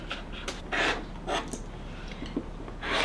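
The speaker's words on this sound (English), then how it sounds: "then we're gonna trim on our line" Quilt block fabric is trimmed along a line in several short, rasping strokes, each a brief swish of cutting separated by pauses, close and fairly quiet with no talking.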